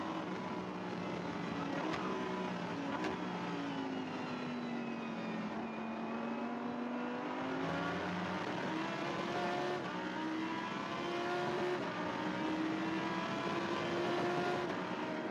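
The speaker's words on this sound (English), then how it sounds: "That is the rasp of a Lamborghini Huracan in full chat." A Lamborghini Huracan race car engine rasps at high revs, rising and falling through gear changes in a continuous loud roar heard from on board during a Super Trofeo race at Sepang.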